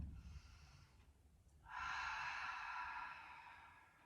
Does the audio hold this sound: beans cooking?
no